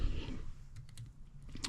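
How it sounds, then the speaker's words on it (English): Several quiet, sharp snips of straight scissors cutting fly-tying material for a grasshopper fly, spaced irregularly, close to the microphone. "I'm going to cut off with the straight scissors"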